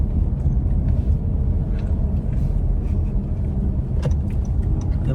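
A Honda City car drives along a narrow road, giving a steady low engine and road rumble with faint tyre noise and occasional small knocks, with nobody speaking.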